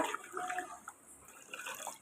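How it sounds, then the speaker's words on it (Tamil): Mint leaves are swished and washed in water, giving soft, faint splashing and dripping sounds close by with no talking. "புதினாவை கிள்ளி தண்ணியில் போட்டு வாஷ் பண்ணி நல்லா"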